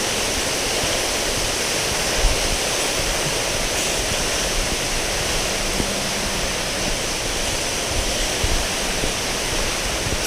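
River Dart at New Bridge on Dartmoor, a steady broadband rush of flowing water that stays even and continuous throughout, close and loud, with no voices.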